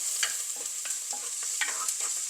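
Curry leaves, green chillies and onion sizzle steadily in hot oil in a pan, with intermittent scraping clicks of a spoon stirring, close and moderately loud with no talk.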